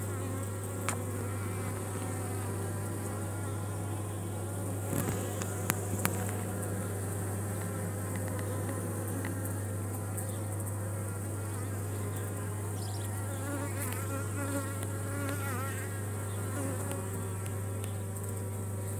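Honeybees buzz steadily and densely around a paint-marked swarm queen on a hive frame, a continuous close insect drone with a low hum running throughout and a few brief clicks, with no talking.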